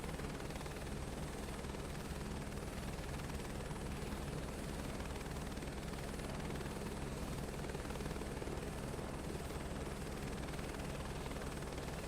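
An aircraft engine in Microsoft Flight Simulator 2024 drones steadily before takeoff, a loud continuous rumbling roar with a fluttering rotor-like beat that holds unchanged throughout, no voices.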